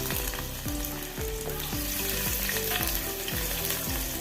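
Chopped ginger and garlic sizzling in two tablespoons of hot oil in an uruli on a gas stove, a loud, continuous frying hiss broken by regular scraping stirs of a spoon against the pan.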